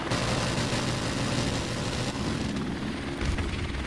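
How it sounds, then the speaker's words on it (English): An enemy helicopter approaches in the Call of Duty Modern Warfare video game, a loud, dense roar of rotor and engine noise that stays steady throughout, with no voices. "Enemy helicopter approaching."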